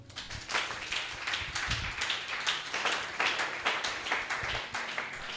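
A church congregation claps steadily to acclaim the Lord, a dense, continuous patter of many hands at a moderate distance with no talking over it.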